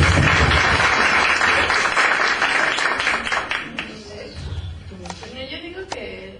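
A congregation applauds a woman at a church gathering, a loud burst of clapping that tapers off over a few seconds as voices and scattered claps take over.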